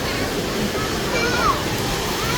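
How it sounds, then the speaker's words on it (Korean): Large ocean waves break nearby in a continuous, rushing roar of surf, with people talking over the water noise. "파도 다. 너무 커."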